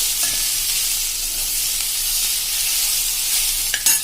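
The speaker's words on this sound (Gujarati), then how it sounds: "1 મિનિટ આ રીતે તમારે સ્લો ફ્લેમ ઉપર આ રીતે ચલાવી લેવાનું છે, ગેસ ઉપર જ, એટલે આપણો વઘાર અંદર સરસ બેસી જાય." Tempering for bottle gourd sambharo being stirred on a slow gas flame: a steady, even close sizzle hisses throughout, with faint stirring and a sharp clink near the end.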